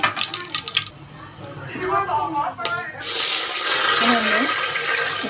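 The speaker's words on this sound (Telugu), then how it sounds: "రెండు గ్లాసుల రైస్కి నేను 4 గ్లాస్ వాటర్ వేసుకుంటున్నాను అండి." Four glasses of water stream steadily into a pot of rice for chicken biryani, a continuous rushing pour that grows louder midway, with a brief voice and kitchen clatter before it.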